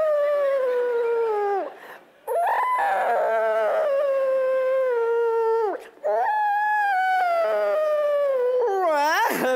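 Voice imitating whale song during a comedy stand-up act: long wavering wails with gliding pitch in three drawn-out phrases, separated by short breaths and ending in a rising, warbling cry.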